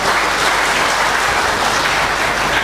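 Seminar attendees at a national AGTIKKNAS conference applaud colleagues from the regions; loud, close, dense clapping runs unbroken through the short span without any voices.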